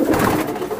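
A young male racing pigeon in a loft coos softly and continuously, close by, with a low throaty burble.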